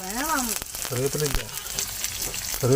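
Curry leaves fry in hot oil with a steady, crackling sizzle, while a person talks over it throughout.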